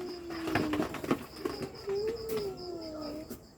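Pigeons in a loft give a few low, soft coos with a rising-and-falling tone, close by and moderately quiet, alongside light background rustling.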